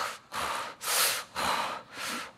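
A preacher imitates snoring with four loud, rhythmic, breathy snorts, close to the mic and spaced about half a second apart, each a rasping rush of air with no words.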